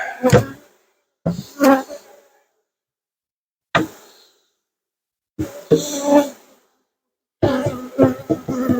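Honey bees buzz close by at an open horizontal hive dusted with powdered sugar. Short, separate buzzes pass the microphone and fade, with brief silences between them.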